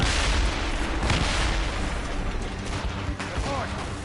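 Naval battle in a video game with cannon fire, a dense, loud roar of booming shots and rumbling blasts blending together, with shouted voices mixed in throughout.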